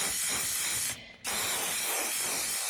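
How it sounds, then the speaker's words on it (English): Two bursts of cheap hairspray hiss loudly and close, sprayed over an inkjet image transfer, split by a brief pause of near silence between them. "I'm just going to seal it using some cheap hairspray"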